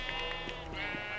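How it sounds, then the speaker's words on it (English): A game sheep gives several short, bright bleats in quick succession, close and clear, over a quiet background. "Good sheep. Good sheep."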